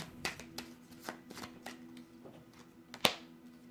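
Tarot cards shuffled and pulled from the deck, a run of soft papery riffles and slaps spaced irregularly, ending in one sharper snap, close and quiet with no talking.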